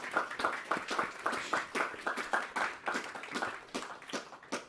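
An audience at a maritime community forum in Hong Kong applauds panelists, with steady, moderately distant clapping throughout.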